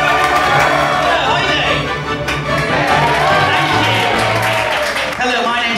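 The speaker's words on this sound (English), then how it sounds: "a huge round of applause, Gerald B. Fillmore!" Applause and cheering from a comedy club audience greet a stand-up comedian as he takes the stage, a loud, continuous wash of clapping mixed with crowd chatter and a voice rising over it.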